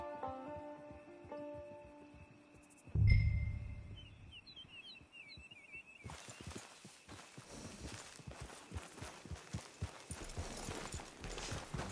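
Quiet ambience with a distant tone gives way to steady, rhythmic clip-clop of horse hooves walking on a hard surface, fairly close, in a PS4 video game.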